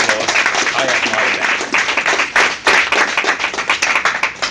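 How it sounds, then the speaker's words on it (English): Audience applause at a press conference, dense clapping from a crowd that rises and falls in waves across the whole stretch, fairly loud and close, with some voices mixed in. "give her a round of applause"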